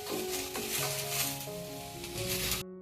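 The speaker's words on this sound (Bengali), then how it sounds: "পাঁচফোড়নটাকে একটু শুকনো খোলায় গুঁড়ো করে নেব, মানে একটু নেড়ে চেড়ে গুঁড়ো করে নিলেই হবে।" Panch phoron spices are stirred and toasted in a dry pan, a steady close rasp with a faint sizzle. A sustained music-like tone runs underneath until the sound cuts off.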